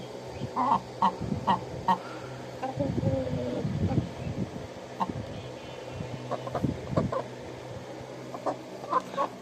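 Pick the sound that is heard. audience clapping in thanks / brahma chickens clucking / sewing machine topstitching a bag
brahma chickens clucking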